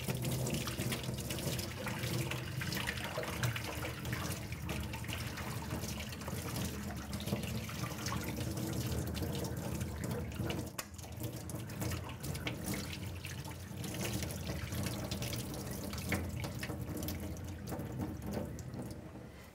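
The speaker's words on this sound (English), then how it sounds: "now I'm going to pour it through this wetting veil, which is suspended over a piece of window screen" Water mixed with soil is poured through a wetting veil stretched over window screen during flotation sample processing, a continuous close splashing and trickling stream that runs steadily for the whole stretch, dipping slightly midway, with no talking.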